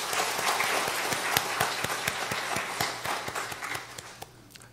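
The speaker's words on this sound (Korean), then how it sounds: "잘 다녀오라고 박수하시겠습니다." A church congregation claps together during a Sunday service in a sanctuary, a brisk, loud round of applause with distinct individual claps that gradually thins out and fades toward the end.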